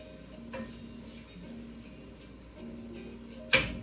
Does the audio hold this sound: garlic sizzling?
yes